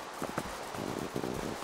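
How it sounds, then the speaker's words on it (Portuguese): A skeleton horse in Minecraft Pocket Edition 0.15.1.2 makes soft, brief hollow snorts and hoof-like sounds, faint and close, ending in a short louder burst. "E um cavalo de osso?"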